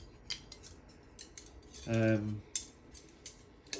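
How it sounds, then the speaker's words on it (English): A metal knife, fork and spoon from a bug out bag are handled up close, giving several light clinks and clicks and one longer grating scrape, with quiet gaps between. "Knife, fork, spoon."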